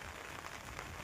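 Rainwater running across an old road in Medankallur, Degloor, during heavy rain, a steady broadband wash of flowing water and falling rain that stays even and close for the whole moment.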